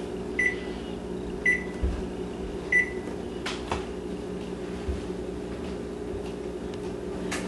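Oven control panel beeping as it is set to bake at 375 degrees, several short electronic beeps and button clicks over a steady appliance hum.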